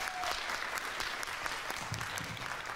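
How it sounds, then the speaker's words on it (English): An audience claps for a stage panel of young women in the skilled trades, a steady dense wash of applause filling the whole stretch, with faint voices underneath. "Give them a round of applause, please"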